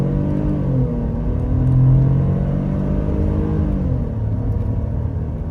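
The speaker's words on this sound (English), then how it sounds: "it's pretty loud in here. The engine is pretty gutless." Engine of a 2024 Ford Bronco Sport heard from inside the cabin, a loud steady drone and rumble that swells briefly as it revs, then settles back to a constant hum.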